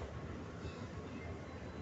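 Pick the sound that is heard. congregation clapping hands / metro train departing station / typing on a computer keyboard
metro train departing station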